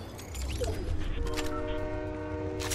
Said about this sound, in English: But now I can't catch up to that train.